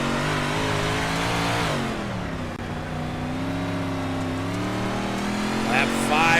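In the iRacing game, race car engines drone and rev steadily on the dirt track. Several overlapping tones rise and fall as the cars sweep past, close and loud, with a commentator talking over them.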